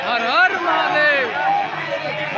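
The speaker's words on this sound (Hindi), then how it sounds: "इतनी रात को इतनी भीड़।" Dense crowd of pilgrims on foot at night at the Mahakumbh in Prayagraj, a steady loud hubbub of many overlapping voices and calls close around, with occasional louder shouts rising above the babble.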